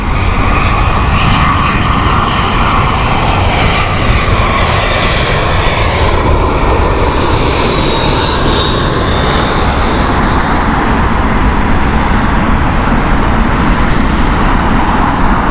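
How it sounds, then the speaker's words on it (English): A British Airways Airbus A319 jet at Heathrow roars loudly and continuously, its broad engine rumble swelling with a rising-and-falling whine as it passes nearby, with no talking over it. "Vienna flight here from British Airways. This is Airbus A319."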